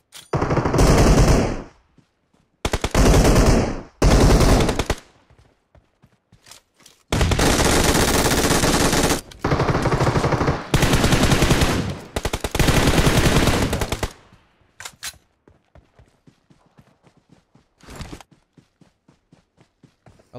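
Automatic weapon fire in the mobile video game PUBG Mobile, several long, loud sustained bursts separated by short pauses, with faint footsteps and quieter single shots in the gaps.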